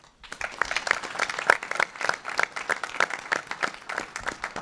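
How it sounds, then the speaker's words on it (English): A crowd at a university pitch competition breaks into sustained, fairly loud applause, steady dense clapping for several seconds with a few louder claps standing out. "Another big round of applause for them."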